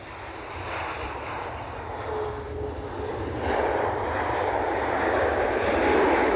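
Ryanair airliner passing at Edinburgh Airport, a broad jet engine rumble and hiss that swells gradually and grows louder toward the end, heard from a distance outdoors with no voices.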